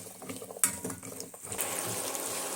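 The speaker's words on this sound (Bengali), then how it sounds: "আলুগুলো আমি পেঁয়াজের মধ্যে দিয়ে একটু নেড়ে চেড়ে নিচ্ছি।" Diced potatoes stirred into fried onions in a pan while cooking ghugni, with scattered scrapes and clinks of a utensil against metal and a soft sizzle underneath.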